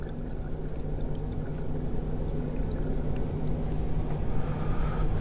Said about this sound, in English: Did you hear the bubbles, man?